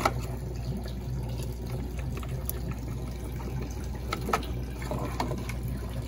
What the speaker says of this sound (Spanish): Entonces voy a prender la bombita.